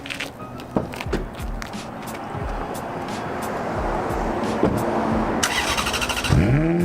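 A warmed-up car engine in a large collection is started up, cranking and catching with a rising rev toward the end, preceded by footsteps and clunks nearby.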